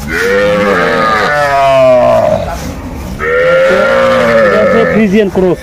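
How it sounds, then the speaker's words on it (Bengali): Young Friesian cross bull calves bawl repeatedly, drawn-out moos rising and falling close by, one long call after another with a short pause between. "ফ্রিজিয়ানের ক্রস ষাঁড় বাচ্চা।"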